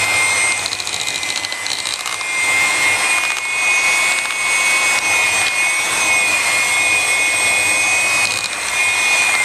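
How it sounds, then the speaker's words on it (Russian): An electric mixer whips a pudding-based cake cream cooked with milk, giving a steady, loud motor whine that runs without a break for the whole stretch. "Взбиваешь."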